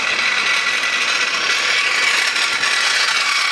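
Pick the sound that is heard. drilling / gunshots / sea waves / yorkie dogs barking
drilling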